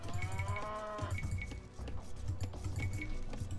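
Cattle moo repeatedly in a low, steady rhythm in an Age of Empires match, with villagers sent to take a cow, accompanied by light clinking game effects and no talk.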